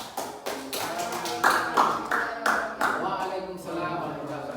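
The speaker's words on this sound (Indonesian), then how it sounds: "Kita berikan aplaus dulu untuk kelompok ini." Classroom applause for a student group: a burst of hand clapping in uneven, scattered claps, fairly close, with a voice in the background.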